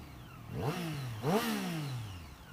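A Triumph Street Triple 660 motorcycle revs up twice in quick succession while riding, its engine pitch rising and falling with gear changes over steady wind noise, with no one talking.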